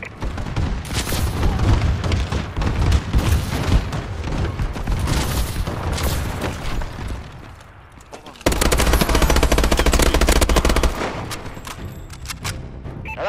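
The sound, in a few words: video game bombing run with gunfire and explosions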